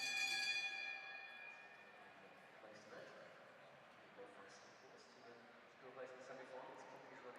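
A bell rings for the final lap at the 2024 British National Track Championships, a bright, ringing tone at the start that fades into indoor crowd noise and murmuring.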